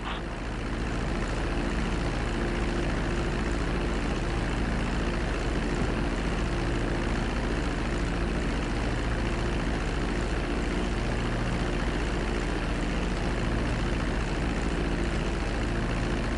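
Steady, loud airplane engine drone during a landing approach in GTA 5, a continuous even roar with a low hum that holds unchanged throughout, with no talk.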